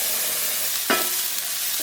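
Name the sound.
onions frying in oil, sizzling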